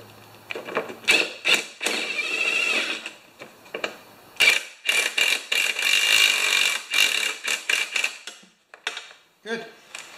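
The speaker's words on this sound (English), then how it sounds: "Now I can just reach in and redo this tank bolt." A ratchet on a long extension tightens the tank bolt on a Craftsman EZ Walk mower with clicky metallic bursts, clanks and pauses, close and fairly loud.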